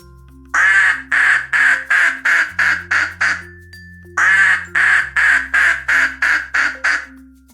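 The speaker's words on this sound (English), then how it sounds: "Duck." Duck quacking in two rapid runs of loud, close quacks, each burst of about eight calls separated by a short pause, over a soft musical backing of sustained tones.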